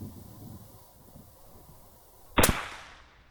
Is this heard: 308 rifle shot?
yes